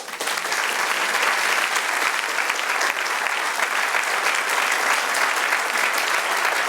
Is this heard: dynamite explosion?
no